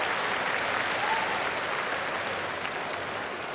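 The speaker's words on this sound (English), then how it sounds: "give our contestants a round of applause." A crowd at a Blizzard event show in 2009 gives contestants dense, continuous applause, a loud even wash of many hands with no break for the whole stretch.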